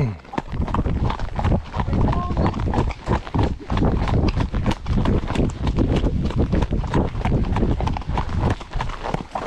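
Horse hooves clip-clop in a rapid, steady trot on a hack outdoors, loud and close throughout with a continuous rhythmic beat, with a rider's voice briefly heard over it.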